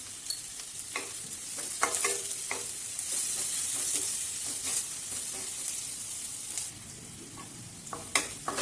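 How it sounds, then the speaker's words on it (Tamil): Onions with salt sizzle steadily in a pan, broken by frequent scraping stirs of a spoon, close and continuous with no voices. "வெங்காயம் கொஞ்சம் வதங்கட்டும்."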